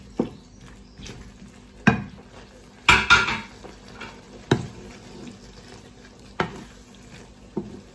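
Chorizo being stirred in a cooking pot with a utensil, giving a string of sharp metallic clinks and scrapes against the pot at irregular intervals, with one louder rattling burst in the middle, close and clear with no talking.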